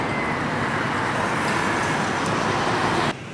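Inside a London bus moving through traffic, a steady broadband engine and road roar fills the space, loud and continuous, cutting off sharply at the end.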